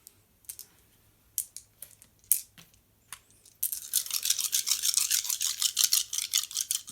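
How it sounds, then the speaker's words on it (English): Dice rolled during a tabletop fantasy battle game: a few scattered clicks first, then a longer, busy stretch of rapid rattling clatter, close and fairly quiet. "They roll 2 dice each."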